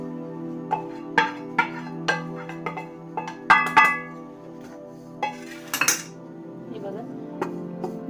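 A metal spoon scrapes and taps against a pan while roasted gram flour, besan, is scooped out, giving a series of ringing clinks at irregular intervals, close and clear over a faint steady hum, with no talking.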